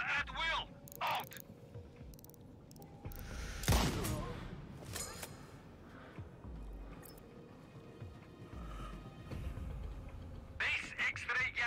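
Gunfire in the Sniper Ghost Warrior Contracts 2 video game: scattered sharp shots with one loud close blast, set against quiet ambience. Game voices speak between the shots.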